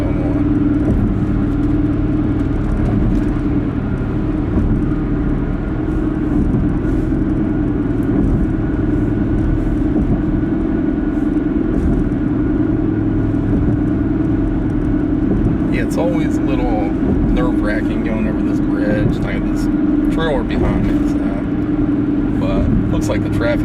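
Steady road rumble and tyre whir from a car cruising in the middle lane of light highway traffic, continuous and fairly loud throughout, with people talking over it.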